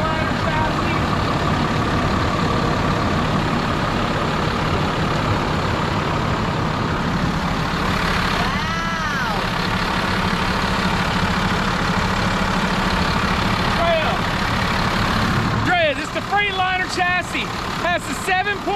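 A Detroit 7.7 liter turbo diesel engine in a Freightliner-chassis Super C motorhome idles with a steady, deep, continuous rumble, nearby and constant, while voices talk over it.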